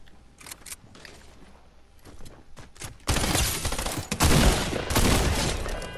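Burst SMG gunfire in a video game: a few scattered shots, then from midway loud, sustained rapid bursts crackling close and dense to the end.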